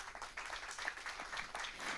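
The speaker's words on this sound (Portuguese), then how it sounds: "um forte aplauso para o sponsor" Audience applause for a sponsor at a Sushi of Dushi Kliko challenge competition, a steady patter of many hands clapping at moderate distance for about two seconds, with no voices on top.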